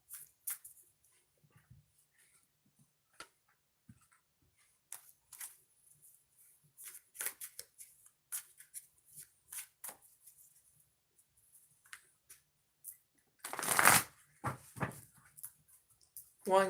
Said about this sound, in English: I'm going to shuffle the decks